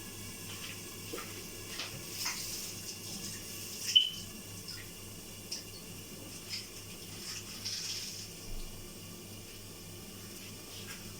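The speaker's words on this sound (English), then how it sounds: "We'll just wash these leaves quickly and then we'll chop these up." Lettuce leaves rinsed under a running kitchen tap, a steady soft water hiss with faint splashes and a few small knocks as the leaves are handled, no talking.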